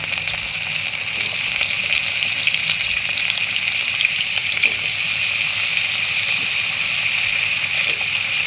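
Potatoes fry in a small amount of hot oil in a kadai, giving a loud, constant bright sizzling hiss that holds steady from start to finish, close up and without speech.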